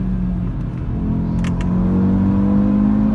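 A 555 hp Audi RS3 engine revs at high rpm, a loud, steady, rising engine tone with a deep rumble underneath, heard alone without talk.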